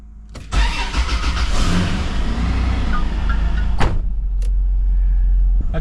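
An 80 Series Toyota Land Cruiser engine running as it warms up and pulls away, a steady loud mid-pitched rumble that starts abruptly and holds, with a couple of sharp clicks or knocks along the way.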